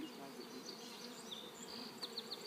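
Honey bees buzz steadily around an overwintered hive with a small cluster, a constant close insect drone with individual bees whizzing past the microphone.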